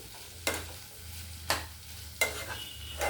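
Yogurt chutney with potlakaya, snake gourd, being stirred in a bowl, three or four distinct soft scraping strokes spaced about a second apart over a quiet low hum, close and faint.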